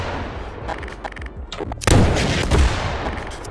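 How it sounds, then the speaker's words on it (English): Loud video game explosions with booming, crackling blasts, one big burst followed by another heavy boom and rumbling aftermath. "Explosions."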